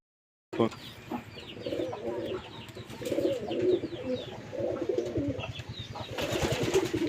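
Pigeons at a loft, including Giribaz and Sirazi birds, coo in low rolling murmurs close by. The cooing continues with overlapping calls and some faint background rustling.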